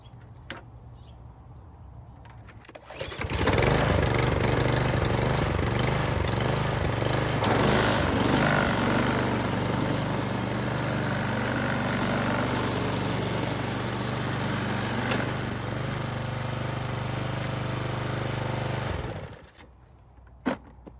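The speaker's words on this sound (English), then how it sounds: "I'm gonna go ahead and start it and see what it does." A Husqvarna wheeled string trimmer with a Briggs & Stratton 675EXi engine starts after a quiet lead-in, then runs steadily and loudly for about sixteen seconds before shutting off, with no talk over it.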